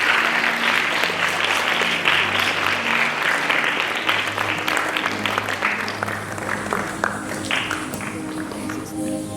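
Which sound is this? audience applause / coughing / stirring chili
audience applause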